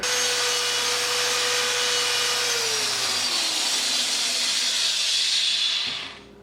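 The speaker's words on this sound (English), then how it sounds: "I'm taking my time here with the sanding" A steady, rushing abrasive hiss of sanding a spinning bowl with a Milliput inlay, with a motor hum that winds down before the sound fades out.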